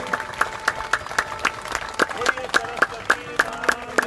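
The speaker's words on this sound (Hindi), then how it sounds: "ताली बजाइए, माता का अभिनंदन कीजिए।" An audience at a Basant Panchami Saraswati puja claps in a steady, rhythmic beat, with sharp regular hand claps repeating about every quarter second for several seconds.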